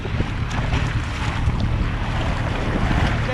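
A boat motors along a Miami Beach canal under steady loud wind buffeting, with continuous engine rumble and water rush throughout and no voices.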